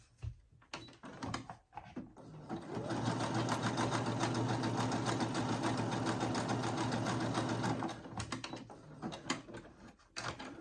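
A Brother CS7000X sewing machine runs a zigzag stitch in one sustained burst, a close, steady mechanical whirr with rapid rhythmic needle chatter, framed by brief knocks and handling noises before and after.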